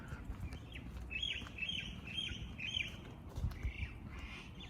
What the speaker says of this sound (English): These are some cute birds. Can you see them? They got like white spots on their wings.